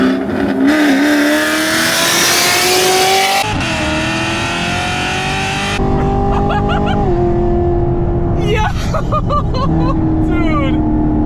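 A 600-horsepower Chevrolet Camaro SS with a loud exhaust drones steadily while driving in Miami, its engine note rising and shifting through several pitch changes, with voices talking over it.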